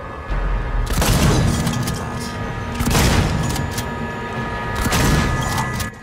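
Shotgun blasts in the Alien: Isolation video game, three loud booming shots spaced about two seconds apart, each with a long rumbling tail, with no talking.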